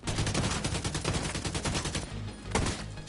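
Rapid gunfire bursts in the video game Division 2 come fast and loud for about two seconds, then pause before a final sharp shot.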